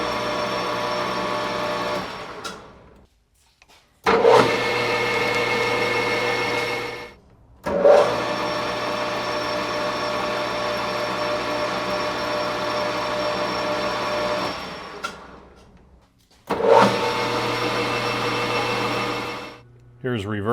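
A Grizzly G4003 metal lathe runs after repair on a cold start, a steady motor whine with a low hum, shutting down and restarting three times with brief silent gaps between runs.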